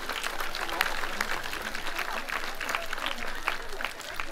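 An audience claps at an outdoor bird of prey show after a flight of kites, a continuous scattered patter of hands at moderate distance, with a faint voice underneath.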